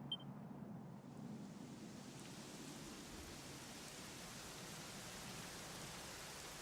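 Steady rain falls in Dragon Quest XI: Echoes of an Elusive Age, a faint, even hiss of drizzle that continues without a break and with no other sound.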